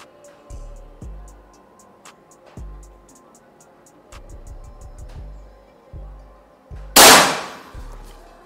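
Sharp air-rifle shots from a PCP Pasopati Big Game 4000 psi, about a dozen spaced cracks, close and fairly loud, with one harsh louder burst near the end.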